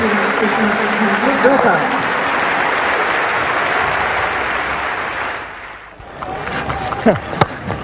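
Crowd at a test match applauds Sachin Tendulkar's fifty, a broad wash of clapping that swells then fades, with a commentator talking over it and a brief lull before more voices.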